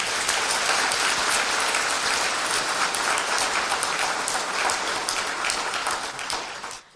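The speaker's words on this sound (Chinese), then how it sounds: "我们呢再一次用热烈的掌声感恩他们。" An audience at a university lecture hall breaks into loud, sustained applause, dense clapping from many hands filling the room for several seconds before tapering off at the end.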